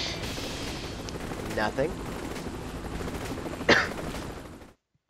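Gunfire from Saints Row: The Third, with steady game noise throughout and a couple of sharp louder bursts, the strongest near the end, before the sound cuts to silence.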